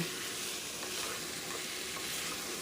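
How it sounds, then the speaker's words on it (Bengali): Chicken cooks down in a covered pan for a fiery red Bengali chicken curry, giving a soft, steady sizzle and hiss with faint stirring scrapes, fairly quiet and with no one talking. "চিকেনটা এখন কষা হচ্ছে"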